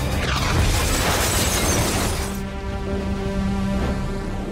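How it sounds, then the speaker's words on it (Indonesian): A movie explosion as a grenade launcher round hits a car: a loud, dense blast and crash fills the first half, then gives way to a ringing, fading tail with debris. "dia meluncurkannya ke mobil Suranto dan mereka pun tewas dalam ledakan"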